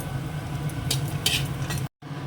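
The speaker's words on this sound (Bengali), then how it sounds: "এই বড়িগুলো দিয়ে দিচ্ছি এগুলোকে ভেজে তুলব" Lentil dumplings (bori) fry in hot oil with a steady, close crackling sizzle. Stirring and scraping against the pan come in brief bursts, and the sound cuts out abruptly near the end.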